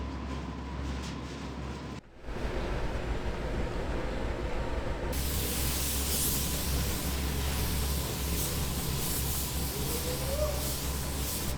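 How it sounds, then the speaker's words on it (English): Compressed-air spray gun shooting paint in a heated paint booth, a loud steady broadband hiss that switches on partway through and holds continuously over a low hum, after a quieter stretch with a brief dropout. "That means he's ready to shoot some paint."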